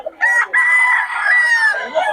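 A rooster at a chicken market in Bocaue crows once loudly and close by. The crow is a drawn-out, wavering call that follows a brief cluck.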